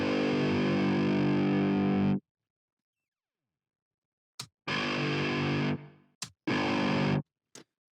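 Heavily distorted electric guitar through a 6505 amp simulator, played as a sustained chord, then silence, then two more held chords separated by short clipped stabs and ended by a brief blip.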